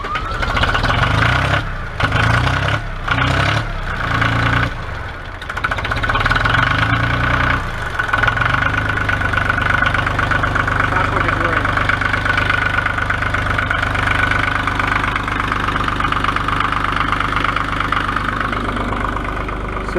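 An old Ford tractor, a four-wheel-drive 1900cc model from about 1982, idles in neutral on the choke with a steady, loud low rumble, after a few brief dips early on.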